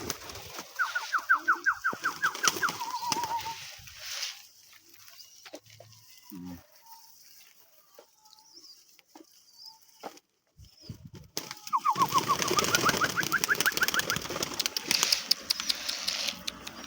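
Several birds call from close by in two busy bursts, with a quieter stretch of faint scattered sounds between them.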